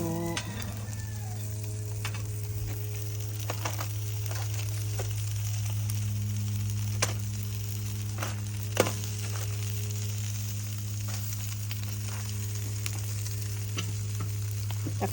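Dried fish grilling without oil, a steady close sizzle with scattered crackles and ticks over a constant low hum.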